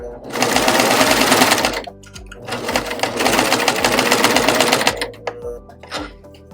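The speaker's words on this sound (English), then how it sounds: "What I'm going to do is just stitch a little bit over these stitches, making sure not to cut them under the blade" A serger sewing machine stitches over the seam of a pillow cover in two loud, close, steady runs of rapid whirring, followed by softer fabric handling and a brief final buzz.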